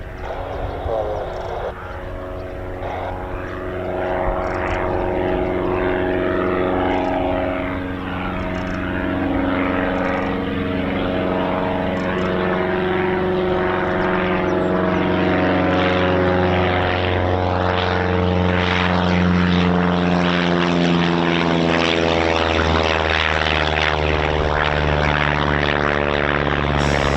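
A Pitts S2 aerobatic propeller plane taxis out at RAF Marham on an aerobatics competition day, its engine droning loud and close with a steady, slowly shifting pitch for the whole stretch.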